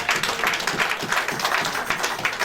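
Applause in a church service giving glory to the Lord: a steady, dense wash of many hands clapping, with rhythmic pulses running through the whole stretch.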